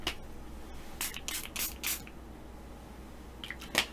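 A handheld water mister gives several short hissing sprays in quick succession, one after another, close by in a quiet room, followed by a pause and a final spray.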